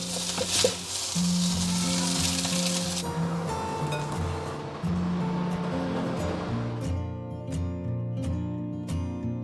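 Chicken thigh pieces stir-fried over high heat in a wok with black pepper sauce, fried mint leaves and toasted white sesame. A steady loud sizzle runs throughout, with scraping and tossing noises and a few sharp taps near the end.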